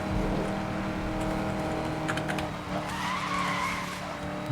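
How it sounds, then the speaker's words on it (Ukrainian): A car slides sideways through a drift in Need for Speed: Most Wanted (2012), with a steady engine drone and tire skid that carry through the whole stretch. No one talks. "Ось так боком їду."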